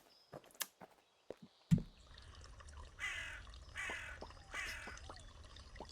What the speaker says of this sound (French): Il y a un corbeau qui a chanté